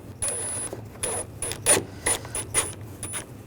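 Ratchet snugging bolts on the A/C condenser cooling fan assembly of a 2008-2012 Jeep Liberty 3.7L V6, a quick series of short metallic clicking bursts in uneven rhythm, close and fairly quiet.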